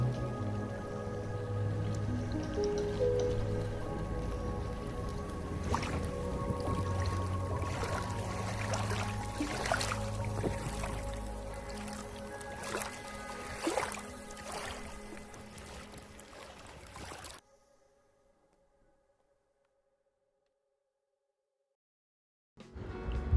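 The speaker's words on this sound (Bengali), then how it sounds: "কলকল ধ্বনি" Rain-soaked water at Pawna Lake, a dammed lake near Lonavala in monsoon rain: a continuous broadband wash of babbling and splashing that carries on, then drops suddenly to near silence before a brief return.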